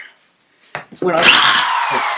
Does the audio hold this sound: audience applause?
no